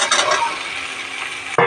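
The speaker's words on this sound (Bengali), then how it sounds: "এবারে ঝিঙেগুলো দিয়ে দেবো।" Ridge gourd pieces hit a hot pan of cumin, ginger and mustard paste with a loud, steady sizzle that holds for over a second, followed by a sharp clatter of utensil against pan.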